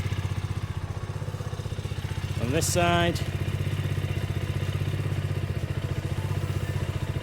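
A KTM Duke 125 motorcycle with a newly fitted replacement radiator idles close by, its steady low throb continuous throughout, while someone speaks briefly over it.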